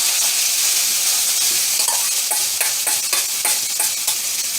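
Steak pieces for fajitas sizzle and crackle loudly in a hot pan, a dense continuous hiss with occasional stirring scrapes, close and steady throughout with no talking.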